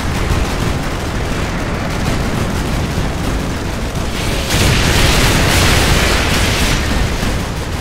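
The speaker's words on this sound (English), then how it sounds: "Artillery inbound." Artillery strike in Call of Duty Modern Warfare 2, a dense, continuous roar of explosions and gunfire that swells louder partway through, with no voices.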